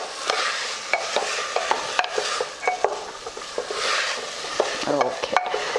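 Tomatoes and peas cooking in a pan are stirred with a spoon, producing repeated clinks and scrapes against the pan over a soft background sizzle, close and unhurried.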